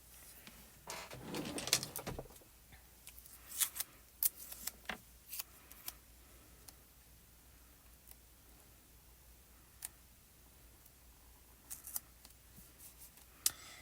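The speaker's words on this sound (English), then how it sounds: "I'm going to cut out this frame, the scalloped frame over here." Scalloped paper frame being cut out with scissors for a handmade birthday card, a run of quiet, close snips and paper rustles that come in scattered bursts, loudest early on and then sparse clicks.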